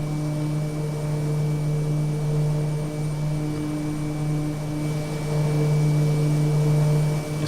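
A Daher Kodiak 100 single-engine turboprop in cruise flight, heard from the cabin as a steady, droning engine and propeller hum with a strong low tone and an even rush of air throughout, no talk.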